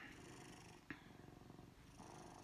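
Soft, rhythmic purring from a domestic cat, close and quiet, with a brief sharp click partway through.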